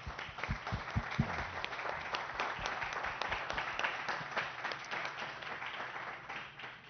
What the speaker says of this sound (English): Let us then give a round of applause to our panel.